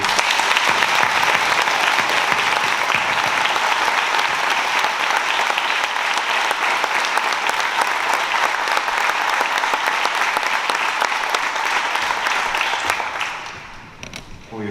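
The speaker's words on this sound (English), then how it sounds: "let's just give a round of applause to our veterans, please" A crowd at a high school Veterans' Day observance gives loud, sustained applause for the veterans. The clapping holds strong for about thirteen seconds before it tapers off.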